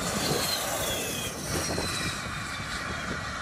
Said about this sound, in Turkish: Bayraktar Kızıl Elma teker kesme testinde ayaklarını yerden kesti.